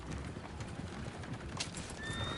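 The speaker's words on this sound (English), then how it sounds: "Oh, shit, the horses." Horse hooves clip-clop in Red Dead Redemption amid a whinny, the rapid footfalls dense and continuous under a busy wash of game ambience, fairly close and loud.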